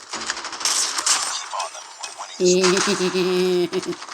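Gunfire in the Call of Duty video game. Rapid, punchy shots crackle in bursts close up, with a voice talking over them.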